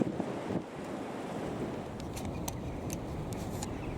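Wind blows beside the River Great Ouse in a steady, broad rush of noise, with buffeting against the microphone and faint higher tones in the background.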